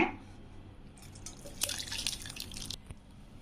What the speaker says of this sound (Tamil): பாருங்க, பால் வந்து நல்லா திரிஞ்சிருச்சு. இதை நம்ம அப்படி ஒரு துணியில் வடிகட்டிக்கலாங்க.